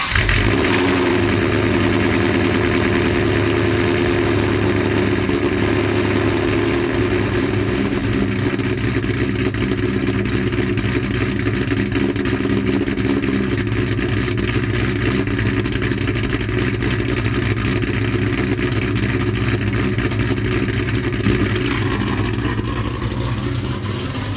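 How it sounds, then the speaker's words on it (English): Cammed car engine with a Borla Atak exhaust on a cold start, running at a loud, steady, lumpy idle close by for the whole stretch, a deep throbbing rumble that hardly changes and has no talk over it. "enjoy that cold start"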